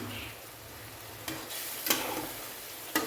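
A soft sizzle from fish cooking in oil in a pan as a little water is added, faint and crackling with a few brief scraping or splashing bursts.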